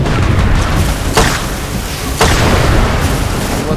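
Explosions and gunfire boom in the Far Cry 2 video game, two sharp blasts about a second apart over a loud, dense rumble of battle noise.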